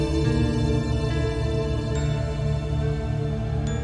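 A sampled passage from a 2008 Japanese song plays as dense, sustained tonal music with layered harmonic notes and a soft pulsing low end. It stays loud and even throughout, with no talking.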